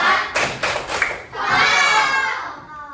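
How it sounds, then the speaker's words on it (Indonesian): Schoolchildren in a classroom doing a thumb clap routine: a few quick thumping claps from the group, then a surge of children shouting and cheering that fills the room loudly. "Coba tepuk jempol"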